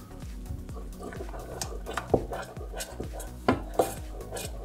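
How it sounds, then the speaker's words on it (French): Gelatin being stirred into a banana caramel cake mixture with a utensil, giving repeated soft scraping and clinking against the bowl in a steady rhythm, close and moderately quiet, with a few sharper knocks. "Je vais mélanger pour bien la dissoudre."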